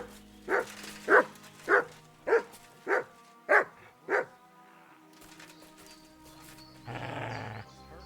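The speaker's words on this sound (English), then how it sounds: "Good dog, Mutz." A dog in the Kingdom Come: Deliverance 2 video game gives seven evenly spaced barks, clear and moderately close, followed by a brief noisy burst.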